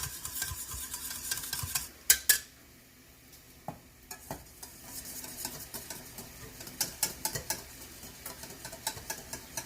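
A whisk or spoon stirring egg yolks in a pan off the heat while clarified butter is added for hollandaise sauce, with fast scraping strokes, sharp metallic clinks and a faint sizzle, close and steady without talk.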